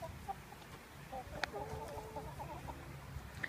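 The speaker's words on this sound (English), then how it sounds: "Got 10 of these out here. So 16 chickens in total." A backyard flock of sixteen chickens clucks in short, scattered bursts close by, quiet against a low outdoor background.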